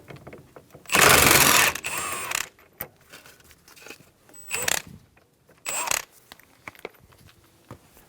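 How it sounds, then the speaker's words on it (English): A ratchet with a 22mm socket works the steering wheel nut on a 1988-1999 GMC K1500, heard as three close bursts of rapid clicking separated by quieter metallic handling noises. "Using a 22mm socket, we're going to remove the nut for the steering wheel."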